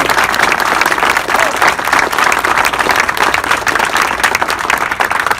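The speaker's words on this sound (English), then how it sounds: "Let's give them a big round of applause." A big outdoor crowd at a street naming ceremony claps for local FDNY firefighters, loud, dense, sustained applause with a thick continuous roar of hands and no pause across the stretch.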